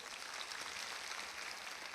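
A church congregation gives a soft, steady wash of applause during a sermon, with dense, even clapping heard from a distance and no voices over it.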